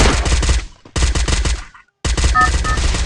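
Rapid automatic gunfire in the Free Fire battle royale game, three close, loud bursts of fast shots separated by short gaps.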